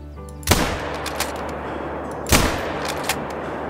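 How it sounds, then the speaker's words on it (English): Two loud, sharp hunting rifle shots from Call of the Wild, spaced about two seconds apart, each followed by a brief echoing tail, with a few faint clicks between and no talk. "I'm gonna shoot one of them and then I'm gonna hope this guy turns."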